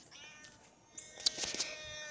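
A house cat meows once, close and clear, a rising then falling cry lasting about a second, followed by a soft trailing sound against a quiet background.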